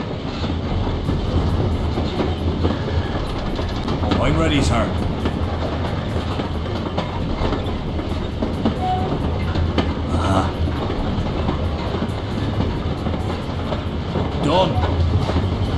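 Moving armoured train in Commandos 3: Destination Berlin, wheels clattering steadily on the rails as a continuous loud rumble throughout, with brief voices speaking over it.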